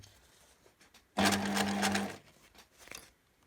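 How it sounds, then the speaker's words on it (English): A sewing machine runs a short line of stitching through vinyl and fabric for a pouch, one steady close whir lasting about a second with quiet handling before and after. "So I'm going to do a nice line of stitching quite close to the edge here."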